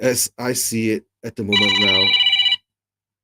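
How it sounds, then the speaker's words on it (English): An incoming call sets off a phone's electronic ring, a bright warbling tone that sounds for about a second right after a man's speech and cuts off abruptly, followed by silence. "Sorry for that phone call coming in"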